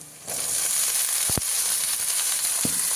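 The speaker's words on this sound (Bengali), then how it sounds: "দেখুন বন্ধুরা পেঁয়াজটা একটু ভাজা ভাজা হয়ে গেছে এবার আমি শিমগুলো দিয়ে দিলাম" Green beans go into a pan of frying onions: a quiet moment gives way to a sudden, loud, steady sizzle, with a couple of sharp utensil clacks.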